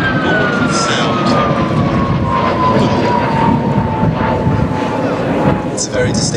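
Two de Havilland Vampire jets roar overhead during a display at Duxford, with a sustained, rushing jet noise and a whining tone that slides steadily downward as they move away, while a commentator talks faintly over it.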